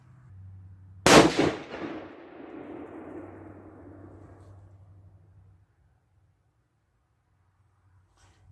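A single loud 6.5 PRC rifle shot firing a Hornady 140-grain match load with Vihtavuori N560 powder, fitted with a muzzle brake, cracks sharply outdoors and its echo rolls off for several seconds before quiet.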